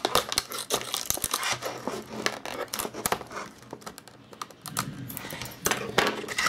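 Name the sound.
scissors cutting open a sturdy toothbrush box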